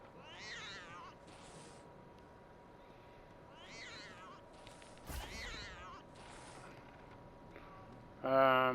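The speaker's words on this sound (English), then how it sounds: "You'll probably find that the cat will leave you pretty much alone." A cat in the video game Lego Harry Potter Collection Years 1-4 meows a few times at spaced intervals over quiet game ambience, followed by a short, louder effect near the end.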